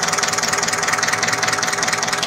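A Mitsubishi Canter diesel engine idles close up with a loud, steady, rapidly pulsing rumble and rattling clatter, continuous throughout with no voices.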